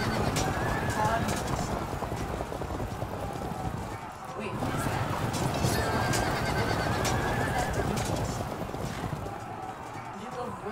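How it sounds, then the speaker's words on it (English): Horses neigh and whinny amid clip-clopping hooves during a medieval battle in the strategy game Field of Glory 2: Medieval, set at the Battle of Hastings; the sound is dense and continuous, with talk mixed in. "Horses are scared."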